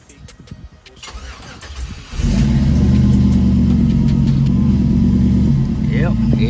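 A Euro Cutlass engine cranks briefly and catches, then settles into a steady, loud idle that holds close by. A voice speaks over the start.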